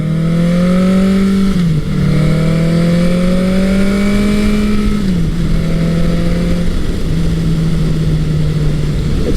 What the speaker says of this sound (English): Sounds nice when you get on the throttle, but this Mac exhaust really does